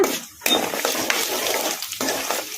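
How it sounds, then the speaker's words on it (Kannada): Peanuts, chana dal and urad dal frying in oil on medium flame, a soft steady sizzle broken by scraping and clinks of a spoon stirring against the pan, close up with no talk. "ಇವನ್ನೆಲ್ಲ ಮೀಡಿಯಂ ಫ್ಲೇಮಲ್ಲೇ ಫ್ರೈ ಮಾಡ್ಕೋಬೇಕು"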